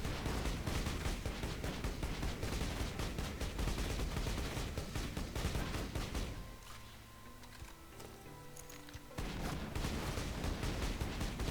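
Torgue assault rifle in Borderlands 2 firing in a dense, continuous roar of rapid shots that briefly drops to quieter mechanical sounds before resuming at full intensity.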